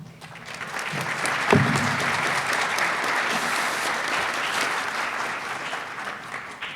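Audience applause at a United We Walk ceremony as a contest winner is brought on stage, a steady wash of clapping from a large crowd that swells after a second and holds throughout.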